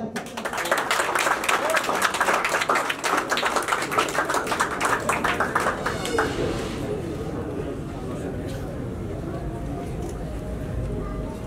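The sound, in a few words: audience applause welcoming poet Tajdeed Qaiser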